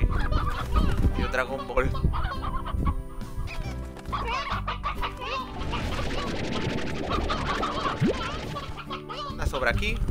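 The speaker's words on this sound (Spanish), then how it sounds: "vamos a buscar el resto de mis gallinas" Chickens cluck in the video game Slime Rancher, a busy run of fowl calls sitting under steady, continuous talk from people chatting throughout.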